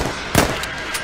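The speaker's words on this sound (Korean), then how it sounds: "여보 총으로 쏴" A single sharp gunshot crack goes off in Minecraft, loud and close. A couple of fainter, brief pops follow within the second.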